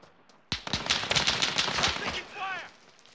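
Rapid bursts of gunfire in the Call of Duty Warzone video game, a dense string of close shots running for a couple of seconds, then a brief ricochet-like whine as the firing tails off.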